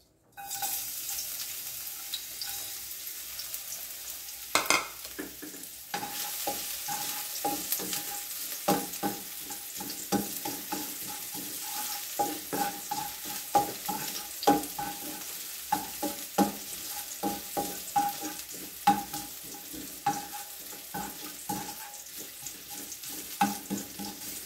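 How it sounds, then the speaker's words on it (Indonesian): Garlic frying in hot oil, a steady crackling sizzle broken by frequent scraping stirs and a sharp clatter early on, heard close with no talk. "yang digoreng hanya bawang putihnya."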